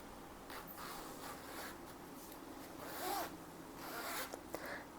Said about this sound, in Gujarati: ચેન પણ એની એકદમ સ્મૂથ આવશે